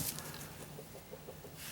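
Chickens on a small ranch cluck faintly in the distance, soft and intermittent over a hiss of outdoor background noise.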